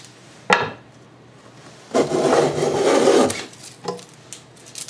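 A hand plane cuts shavings along a wooden board for a Roubo shelf, with a sharp opening stroke, a longer sustained rasping pass of about a second and a half, then a brief trailing scrape, close and fairly loud.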